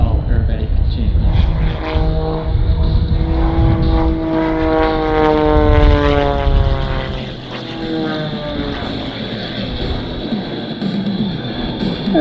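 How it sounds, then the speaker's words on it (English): Aerobatic airplane with an IO-540 400 horsepower engine performing a solo display at an airshow, loud propeller roar with rising and falling pitch as it passes and climbs, continuous with a commentator talking over it. "it will show you the power coming from this IO 540 400 horsepower engine"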